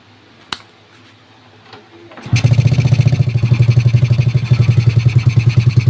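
After a few quiet clicks, an old, freshly restored Honda Supra Fit motorcycle engine starts up and settles into a loud, steady, pulsing idle close by.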